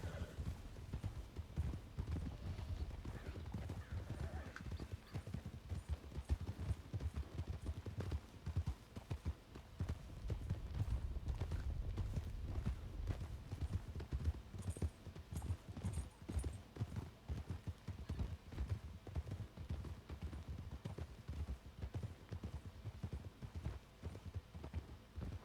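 Horse hooves clip-clopping in a steady walking rhythm that runs throughout, moderately close and quiet, with a brief whinny and faint background hum.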